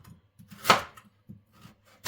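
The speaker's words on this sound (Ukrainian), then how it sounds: "Саме перше, що ми починаємо робити, це нарізаємо гарбуз." A knife chops through a dense raw pumpkin into large chunks, giving a few close, sharp cuts and thuds on a board with quiet gaps between strokes.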